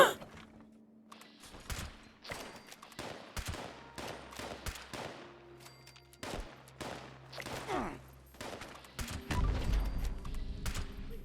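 Gunfire in the video game Fallout 76: rapid bursts of shots crack out in quick succession, loud and close, with steady game ambience underneath and a denser, heavier volley toward the end.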